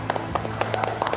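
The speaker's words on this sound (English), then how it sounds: "Please, everyone, a round of applause for Chef Nick Thompson." An audience claps to welcome guest chef Nick Thompson, executive chef of Liberty Tavern, onto a vegan cooking show set; a handful of sharp, evenly spaced claps ring out close by over a low background hum.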